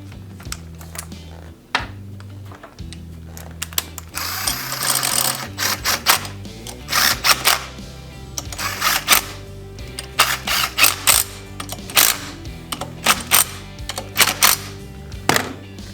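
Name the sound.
threading bolts into Honda GXV 530 fuel pump manifold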